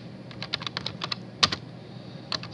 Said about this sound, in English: I'm going to type in the company name.